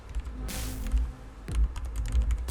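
Computer keyboard keys clicked in quick, uneven bursts while code is typed for a game AI training project, with a brief louder clatter midway; no talking.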